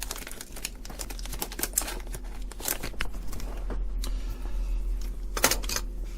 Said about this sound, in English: let's cut this open.